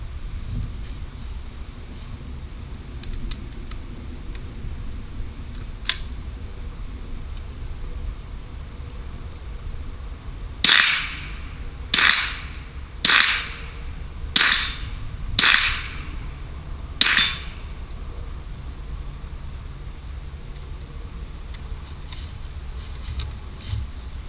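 A Ruger 10/22 rifle with a red dot sight fires at steel plates outdoors: six sharp cracks in quick succession after an earlier single shot, over steady wind and background noise.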